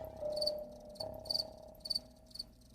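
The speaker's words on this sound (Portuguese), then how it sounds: "É o grilo doméstico, que tem esse nome porque vive geralmente dentro de casa." A house cricket chirping indoors in short, shrill repeated bursts with brief pauses between them, fairly close and alone against a quiet background.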